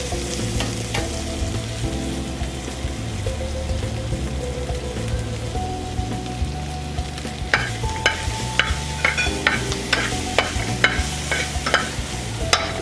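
Shallots and garlic sizzle in a pan for carbonara, a steady close frying hiss with a few sharp utensil clicks toward the end and music underneath.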